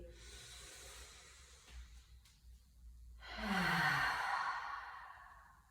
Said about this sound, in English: Inhale fully. And exhale.